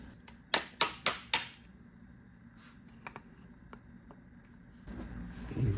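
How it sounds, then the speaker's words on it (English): A hammer taps four times in quick succession on a rear suspension part of a 1994 Mazda MX5 Miata, sharp metallic clinks, followed by a few fainter knocks and workshop rustling. "Tap it gently."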